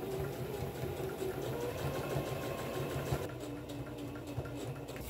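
A sewing machine runs steadily, stitching the side seam of a vest for a cowboy costume, a continuous mechanical hum with a rapid needle rhythm, close and moderately loud, with no one speaking.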